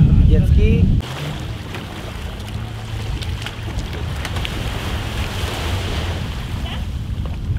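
A jet ski running on the open sea carries a steady engine drone mixed with rushing wind and splashing water, loud and continuous. A voice may sit faintly under the noise.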